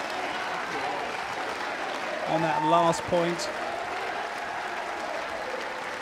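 Steady applause from a home crowd at a Paralympic men's singles wheelchair tennis match in London, continuous and full, swelling briefly mid-way, with a commentator talking over it.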